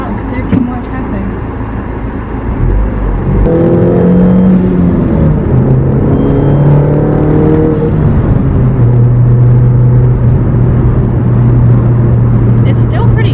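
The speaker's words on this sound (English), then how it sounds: "It's still pretty tame for being catless, or at least the first cat, because it has a JCW exhaust" A MINI Cooper Clubman R55 with a catless downpipe and JCW exhaust drones steadily from inside the car while driving, its engine note rising then settling into a low, sustained hum amid surrounding traffic, loud and continuous.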